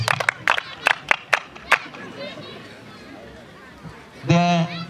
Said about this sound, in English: Now clap for yourselves.